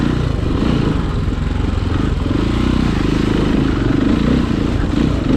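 Dirt bike engine during a hare scramble race, a loud, close, continuous rough drone with rapid throbbing pulses that stays steady throughout.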